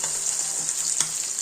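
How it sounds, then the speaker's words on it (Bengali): Pabda fish frying in a pan, a bright close sizzle of hot oil with a few soft pops, steady and alone. "পাবদা মাছ ভাজছি।"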